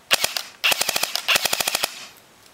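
A Classic Army electric airsoft MP5 fires three quick strings of sharp, clicky shots at close range, each string a rapid even rattle, alone with no talk.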